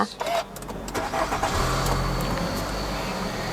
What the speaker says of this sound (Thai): เราเริ่มจากการสตาร์ทรถก่อนนะคะ เพียงแค่เหยียบเบรกเนาะ แล้วก็กดปุ่มสตาร์ทนะคะ